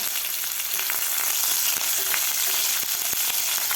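A dense, steady sizzle of curry leaves frying in hot oil for sweet corn poha, with scattered small pops and crackles, close and continuous throughout.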